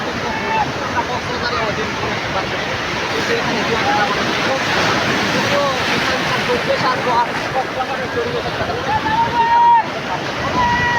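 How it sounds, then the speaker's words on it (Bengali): Sea waves roll onto Kuakata beach in Bangladesh as a steady, close surf roar mixed with gusty wind buffeting, continuous for the whole stretch, with possible faint voices in the background. "বাংলাদেশের দ্বিতীয় সমুদ্র সৈকত কুয়াকাটা অবস্থান করছে।"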